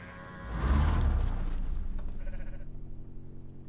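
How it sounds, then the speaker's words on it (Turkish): Goats in the survival game Undawn bleat in a short wavering call, heard after a dull low thump and over a steady outdoor game ambience, with no talking. "Bunlar keçi değil mi?"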